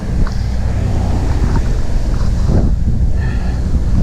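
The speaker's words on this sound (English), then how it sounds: "it's a headwind" Strong headwind buffets the microphone on a fixed gear bike ride in Benicia, California, a loud continuous roar with gusty swells and no speech.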